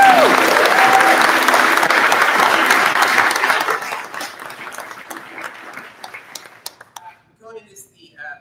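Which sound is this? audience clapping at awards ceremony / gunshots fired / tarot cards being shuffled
audience clapping at awards ceremony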